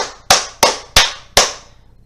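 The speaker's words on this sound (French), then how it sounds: "alors là je ne peux qu'applaudir" A single person claps four times, close and sharp, with the claps spaced roughly evenly and each snapping on with a quick decay, while reacting to a wrestling video game match.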